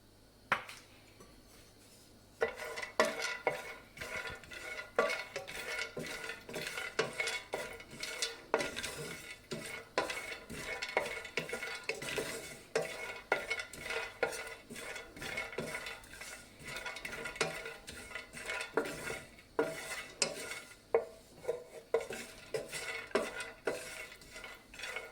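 Almonds roast in a pan while a spoon stirs and scrapes them continuously, making a busy rattling and clinking that runs close and steady for about twenty seconds after a quiet start.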